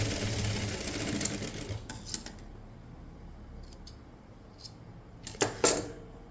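A sewing machine stitches elastic onto a garment neckline, a close whirring run at the start that stops, followed by quiet handling and a few short mechanical clicks and a final brief burst.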